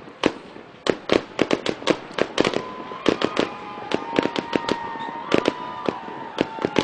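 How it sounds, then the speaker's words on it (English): Fireworks go off after a high school football game at North High School, a rapid irregular run of sharp cracking bangs with a few whistling streaks among them, echoing from mid-distance. "I don't remember ever having a fireworks display after a game"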